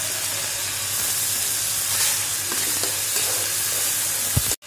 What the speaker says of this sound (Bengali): আমি গাজরটা একটু সটে করে নিব, হালকা করে ভেজে নিব গাজর।